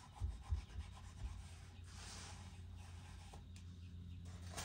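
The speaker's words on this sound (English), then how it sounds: "give it one more nice little once over wipe down" A rag wipes down a front differential case from a four-wheel-drive vehicle with a failed front diff, giving soft, close rubbing strokes, quiet, with a few louder scrubs at the start.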